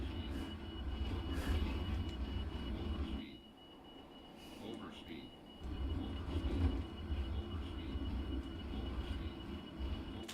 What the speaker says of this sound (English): it literally sounds like the plane is tearing itself apart.